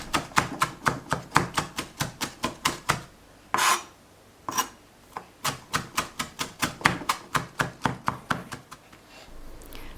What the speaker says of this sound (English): we need to chop these in super tiny pieces